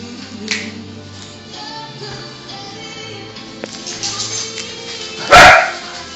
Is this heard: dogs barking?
yes